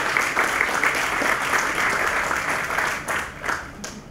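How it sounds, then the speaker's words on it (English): Round of applause from the crowd at a groundbreaking press conference, steady clapping that thins and fades toward the end. "so how about a round of applause for them?"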